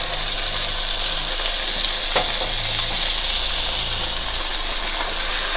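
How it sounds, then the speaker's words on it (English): Chopped potatoes are stir-fried in butter with onion and garlic for aloo saag, giving a loud, continuous frying hiss with a low steady hum and an occasional clink of the spatula. "So we will stir fry the potatoes for 5 minutes."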